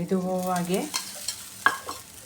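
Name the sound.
sorakkai akki roti cooking in a pan with a little oil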